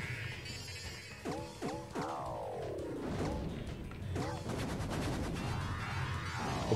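Bomb explosions in a Bomberman game on the Dreamcast come as repeated crunching blasts, mixed with falling electronic sweeps and busy game effects at a moderate level.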